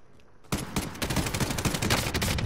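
Rapid automatic gunfire from a powerful weapon in the video game Warzone, starting abruptly after a quiet moment and continuing as a dense, loud stream of shots.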